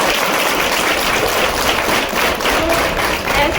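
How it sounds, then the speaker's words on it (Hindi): Audience applause at a stress-free exam themed school programme: dense, steady clapping fills the whole stretch, like rain, with no talk over it. "सबके लिए ताली बजेगी"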